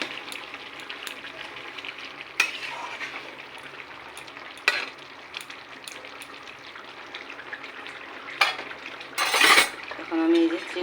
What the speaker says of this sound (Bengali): ঝোলের জন্য আমি এই যে গরম জল দিয়ে দিচ্ছি।